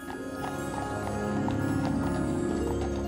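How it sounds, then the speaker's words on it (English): Horses pulling carriages in New York's Central Park clip-clop at a steady walking pace, hoofbeats moderately close over a continuous background hum. "The horses and carriages in Central Park were a useful starting point"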